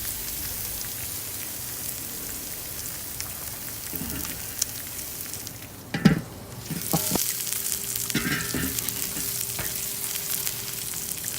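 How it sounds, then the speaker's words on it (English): Beef flap steak and pork belly sear on very hot grill grates with a steady, dense sizzle like heavy rain, broken midway by a few clanks and shuffles as the meat is handled. "We want to create some form of a good sear on this meat so we can lock in the juices"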